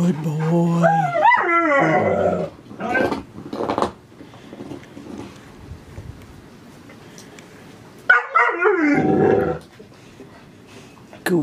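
A Newfoundland puppy whines and yips in rising, pitched bursts, then goes quiet with soft low grumbles before another whimpering, barking outburst near the end.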